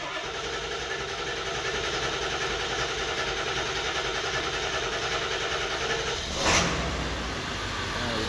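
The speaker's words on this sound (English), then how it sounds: "it'll probably take a little bit of cranking just to get that oil moving" A 7.3 diesel engine fitted in a bus keeps cranking with a steady, droning churn, then catches near the end with a brief louder surge.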